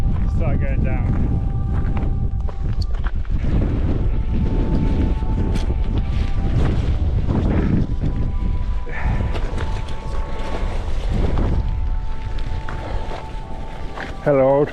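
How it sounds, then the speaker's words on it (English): Strong wind buffets the microphone in heavy, continuous rumbling gusts, with a few faint sounds of movement. "It's very windy up here"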